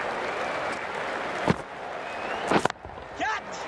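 Crowd applause and cheering from a Zimbabwe vs India ODI cricket video game: a steady wash of stadium noise with a few sharp knocks, heard under commentators talking.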